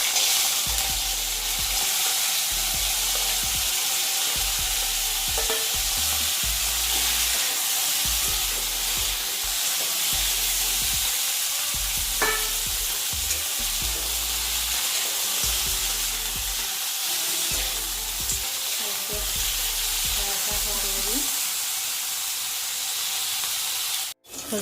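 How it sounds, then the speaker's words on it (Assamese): Crabs fry in hot mustard oil in a wok, a steady loud sizzle and hiss that runs without a break, with faint stirring scrapes and no talking. "কেঁকোৰাখিনি ভাজি ল'ম।"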